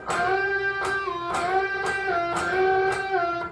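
Electric guitar unison bends, notes picked and bent upward in pitch, then released back down, repeating several times in a steady sustained phrase.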